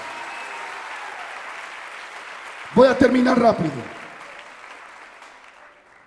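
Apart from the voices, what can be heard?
congregation applause in church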